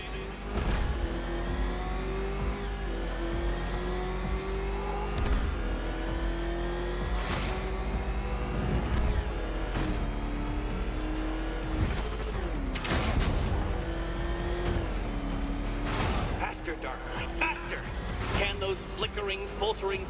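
Batmobile engine in Batman Arkham Knight, a steady loud roar with rising and falling revs and occasional sharp impacts, continuing under dialogue.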